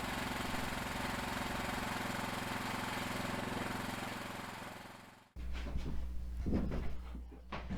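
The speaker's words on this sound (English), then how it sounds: "Can you believe how well that engine started?" A small restored engine runs with a steady, buzzing idle, cuts out abruptly, then fires up again on the first pull with a rougher, sputtering roar and clunks of handling nearby.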